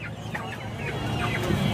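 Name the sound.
chickens clucking at a poultry market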